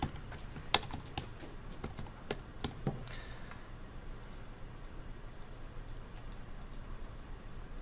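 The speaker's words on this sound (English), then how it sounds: "I could click there and type in a new bullet" Typing on a computer keyboard, a short burst of light quick key clicks up close that stops after a few seconds, leaving quiet room tone with no talking.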